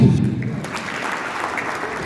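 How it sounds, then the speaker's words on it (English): A burst of audience clapping that starts strong and quickly thins out, leaving scattered claps and room murmur. "Clap."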